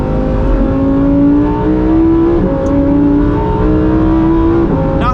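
A 2023 Lamborghini Huracan Tecnica driven in Sport mode, its engine droning loudly and steadily from inside the car, with the pitch climbing through a couple of shifts.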